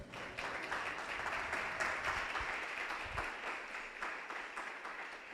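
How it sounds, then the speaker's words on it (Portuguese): Church congregation applauding at a Christian service, a steady wash of many hands clapping at moderate distance that holds for several seconds with no speech. "Dá uma salva de palmas para o teu Senhor."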